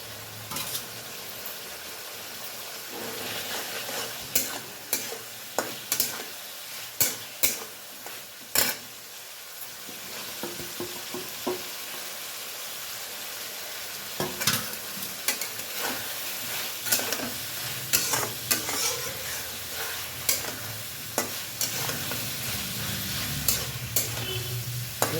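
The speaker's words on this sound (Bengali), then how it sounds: "এবার আমি ভাজা কপিটা দিয়ে দিলাম" Fried cauliflower being stirred in a sizzling pan, with scraping and clinking spatula strokes in bursts over a steady frying hiss, close and fairly loud.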